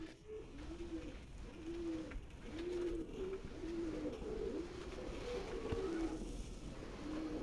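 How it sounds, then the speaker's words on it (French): Several pigeons coo in an abandoned cinema amphitheatre, a string of low, rolling calls repeating every second or so, moderately distant in a quiet, echoing space. "Et c'est rempli de pigeons."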